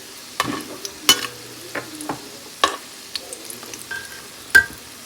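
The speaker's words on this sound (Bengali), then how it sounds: "কড়াই নড়ছে" Gentle frying sizzle in the background as fritters fry in a wok, with a series of sharp metallic knocks and rattles from the wok being moved, spaced irregularly.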